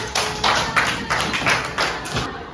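A group of children claps together in a classroom, a quick, even run of about seven loud bursts close by, with a faint murmur behind.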